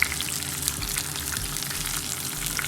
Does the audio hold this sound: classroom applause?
no